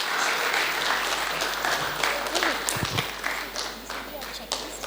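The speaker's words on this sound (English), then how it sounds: "Give a big round of applause to our third speaker," A TEDx audience at HITAM in Hyderabad applauds a speaker being welcomed to the stage, with dense, steady clapping across the whole stretch and some crowd noise mixed in.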